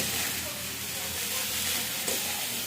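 Leafy greens fry briefly in a pan with very little oil, giving a continuous close sizzle and hiss with a soft stir and brief voice.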